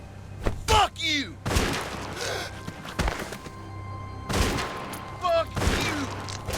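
Scattered gunshots ring out in The Walking Dead video game, a handful of sharp loud cracks spaced irregularly, with voices shouting and groaning between them.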